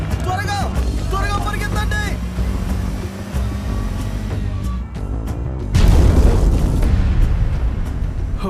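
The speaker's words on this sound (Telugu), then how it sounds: "వాళ్ళు బాంబు వేస్తున్నారు" Bombs explode in the 2006 action film Second Command: voices are heard first, then a loud, deep blast breaks out with a lingering broadband rumble.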